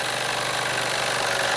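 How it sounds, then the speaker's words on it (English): An early-1900s German Bing small horizontal model steam engine runs steadily, a dense, even hiss and chuff held at constant loudness throughout, close up, with no voices. "If you're into model steam engines, you really want to get yourself an early 1900s German engine"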